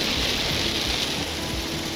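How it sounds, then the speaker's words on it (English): Steady rain falling outdoors in the South Carolina countryside while getting ready for deer season, a dense, even hiss of drops with no break and no talk. "It's raining on us now for maybe, I don't know, five, ten minutes."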